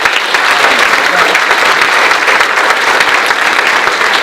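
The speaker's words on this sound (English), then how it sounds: "deserve a round of applause for their leadership on this issue" An audience at a regional prevention summit bursts into dense, loud, sustained applause, a continuous wash of many hands clapping with no pause.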